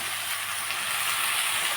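Green chillies sizzling with bottle gourd in a cooking pan, a steady, bright hissing fry that holds at an even level for the whole moment, close and without talk.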